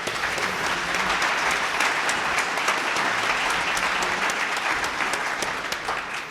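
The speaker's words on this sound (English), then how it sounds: "Please join me in a round of applause for our panelists." Steady, dense applause from a conference audience for a government partners panel, continuous and even for several seconds with no talking.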